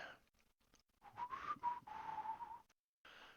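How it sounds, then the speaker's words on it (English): Whistled cowboy-style melody from an intro video playing in the background of an online tabletop role-play session, a faint lone tune of several held notes, briefly broken by gaps. "So we got the whistling cowboy."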